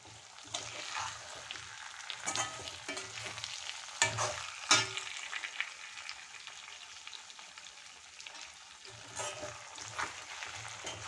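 Chicken fry sautéing over low heat in a home kitchen, a steady soft sizzle with occasional scraping stir strokes and a few sharper clinks, moderately close and without talk.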